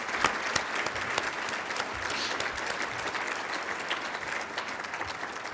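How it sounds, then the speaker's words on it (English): An audience at a city address claps steadily and continuously, a dense wash of applause at moderate distance with no speech over it. "could you give a round of applause to my colleagues who do this"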